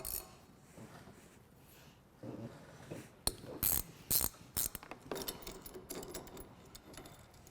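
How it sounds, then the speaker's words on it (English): A ratchet works the four bottom bolts off a Polaris handlebar riser, making bursts of quick metallic clicking separated by short pauses, close and fairly quiet, with light tool clinks between. "And then I'll go ahead and remove the 4 bolts on the bottom."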